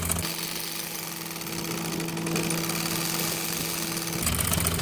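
An electric sewing machine runs continuously while stitching the leg hem of a salwar, a steady buzzing hum with a mechanical rattle throughout, close and alone.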